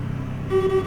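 A brief Scania S Series truck horn blares in a steady tone over a low engine hum in Euro Truck Simulator 2, starting midway and holding to the end.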